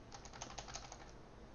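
Typing on a computer keyboard, a quick run of about eight light, evenly spaced key clicks over the first second, quiet and close, then fading into low background hum.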